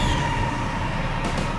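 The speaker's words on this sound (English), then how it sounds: "This state-of-the-art high-speed train is a perfect example of just how advanced the country's transportation network has become." A high-speed train in China gives a brief, loud, continuous rumbling roar of rolling rail noise with no voices.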